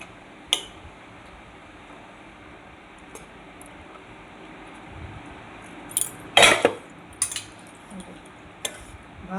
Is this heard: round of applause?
no